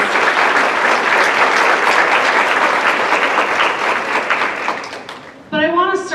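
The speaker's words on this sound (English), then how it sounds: "Please give them a round of applause." Conference audience applauding sponsors at a mental health event, a loud, dense burst of many hands clapping that fades slightly before a voice starts speaking near the end.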